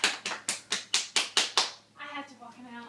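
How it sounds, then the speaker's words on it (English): A few close, sharp hand claps in a steady rhythm at a talk show, roughly eight distinct claps over under two seconds, then fading as a voice begins speaking. "Please give a round of applause for George."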